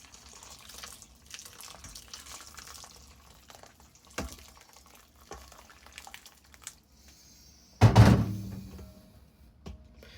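Hot water running briefly from a tap into a sink, a short loud splashing burst near the end after quiet handling clatter and knocks.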